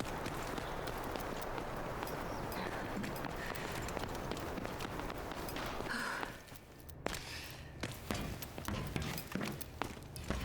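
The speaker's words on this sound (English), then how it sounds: "Footstep audio is really good." Footsteps in the shooter game Delta Force: a fast, steady run of crisp, loud steps over a dense noisy bed, turning to sharper, more separated footfalls in the second half.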